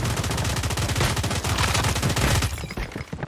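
Rapid, loud automatic gunfire from the Call of Duty Mobile shooter game, a dense burst of close shots rattling on for about two and a half seconds before cutting off abruptly.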